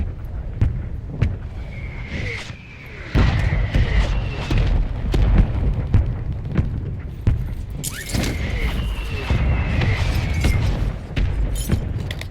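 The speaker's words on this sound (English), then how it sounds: "Mortar strike inbound now." Mortar strike explosions in the video game Warzone, a barrage of booming blasts and cracking impacts over a low rumbling bed, with whistling incoming rounds twice and no voices.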